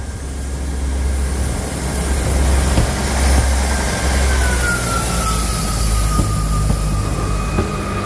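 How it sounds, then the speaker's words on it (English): A Class 158 diesel multiple unit pulls out of Lairg station in the north of Scotland, its engine droning low and steady as it builds speed, with a faint high whine and wheel noise; no speech. "we see 158718 departing with 2H56, the 802, Wick to Inverness"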